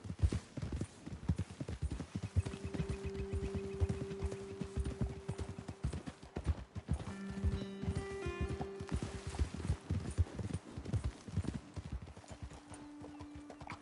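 Steady clip-clop of horse hooves walking on a hard surface in Red Dead Redemption 2, with an occasional whinny and a low continuous tone underneath.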